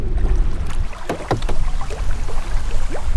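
Wind gusting across a lake while fishing from a small boat, a loud buffeting rumble against the microphone with scattered water and hull knocks, no talking.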